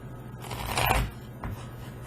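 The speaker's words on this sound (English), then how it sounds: "as I'm shuffling these" A short burst of tarot cards with gilded edges being shuffled up close, a riffle swelling then ending, followed by a softer brief shuffle.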